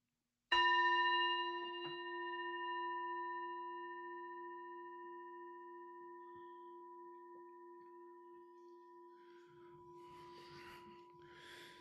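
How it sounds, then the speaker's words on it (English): A meditation bell is struck once to open a sitting practice, ringing clear and sustained before slowly fading, with faint breathing and rustling near the end. "And I'll start and end with the bell."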